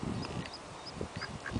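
Ducks being fed bread by a family outdoors give several faint, scattered quacks against steady outdoor background noise.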